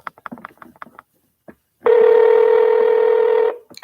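A phone call is being dialed, with a quick string of short keypad tones followed by a pause. A single long, steady ringback tone then sounds loud and close.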